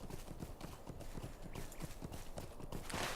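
Horse hooves clip-clop in the online game LOTRO (The Lord of the Rings Online), a quick, rhythmic run of hoofbeats at moderate level that continues steadily without talking.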